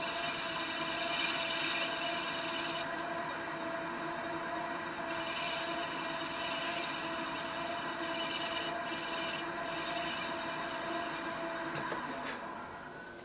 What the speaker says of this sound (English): Just a tiny bit more sanding, just to take the rough spots off.